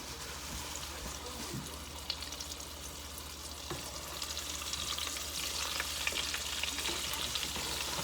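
Food sizzles steadily in hot oil in a pan while being stirred, with scattered scraping and clicking from the utensil over a constant frying hiss and no talking.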